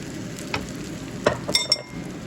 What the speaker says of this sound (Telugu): ఈ బీట్ చేసిన ఎగ్ మిక్చర్ని ఇందులో వేసేసుకుంది